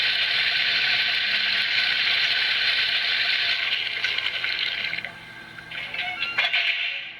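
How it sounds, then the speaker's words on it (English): A DCC sound chip in a model locomotive plays the water hatch door opening as a ratcheting, clicking mechanical sound over a continuous hiss, ending in a few sharper metallic clicks. "the door opening for the hatch for the water,"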